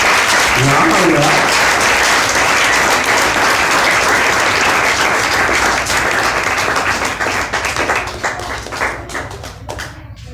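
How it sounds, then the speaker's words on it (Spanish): A church congregation breaks into dense, loud applause that fills the room, with scattered shouts, before the clapping thins and trails off near the end. "¿Le pueden dar un aplauso a ese Dios maravilloso?"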